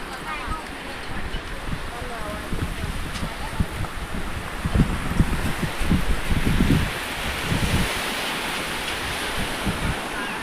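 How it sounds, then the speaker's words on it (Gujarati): Sea waves surging along the shore at the Stambheshwar Mahadev temple coast at Kavi Kamboi: a continuous, fairly loud wash of surf mixed with wind rumble, swelling a little midway, with faint voices in the background. "દરિયો મોજા ઉછાળી રહે છે."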